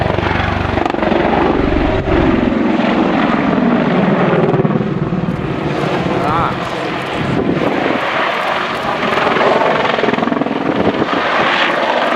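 An Apache helicopter in a solo flying display at RNAS Culdrose Air Day 2013 roars loudly and continuously, its engine and rotor noise shifting in pitch as it maneuvers close by, with no talking.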